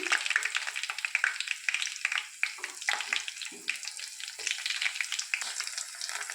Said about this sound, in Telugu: ఆయిల్ వేడెక్కాక కొంచెం జీలకర్ర ఇప్పుడు వేసుకోబోయేవి పచ్చిమిర్చి